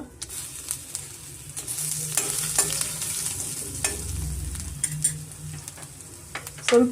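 Cumin, mustard seeds, asafoetida and ginger crackle in hot oil, with sizzling, sharp pops and light stirring taps that swell and fade over several seconds, no one talking.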